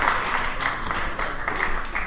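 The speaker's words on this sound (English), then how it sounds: "How about a round of applause?" Applause from an audience after a live Brazilian jiu-jitsu self-defense demonstration, a steady wash of many hands clapping at moderate level for a couple of seconds, with no talk over it.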